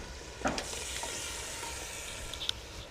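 Fried chicken pieces go into spices frying in a clay pot, with a steady close sizzle and a couple of sharp spatula scrapes and clinks.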